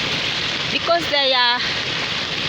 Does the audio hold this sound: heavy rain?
yes